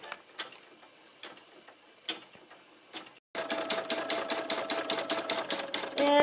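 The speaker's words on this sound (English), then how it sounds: "while that embroidery design is finishing up" A Brother PE 770 embroidery machine stitches a design, first in a few separate short bursts with pauses, then running steadily with a fast, even, rhythmic needle clatter, close and fairly loud.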